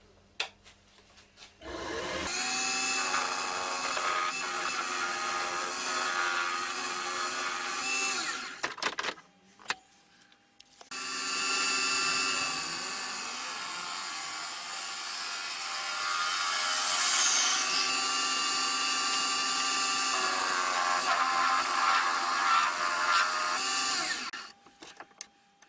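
A wood lathe trims a padauk and walnut bowl blank, two long stretches of steady, tonal whirring and cutting noise close by, separated by a brief stop.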